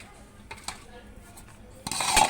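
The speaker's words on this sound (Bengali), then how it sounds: "এখন আমি ঢাকনা দিয়ে ঢেকে দেব।" A metal lid set onto a cooking pot of chicken kosha made with Pakistani layer chicken, a short bright clatter arriving near the end after quiet kitchen background.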